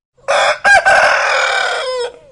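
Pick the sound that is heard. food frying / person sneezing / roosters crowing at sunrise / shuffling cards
roosters crowing at sunrise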